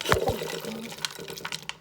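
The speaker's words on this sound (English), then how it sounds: "I'm gonna pour it into the pot." Washed beans poured into a cooking pot for Nigerian rice and beans jollof, a close, sloshing wet rush with splashy bursts, fairly loud and uneven over about two seconds.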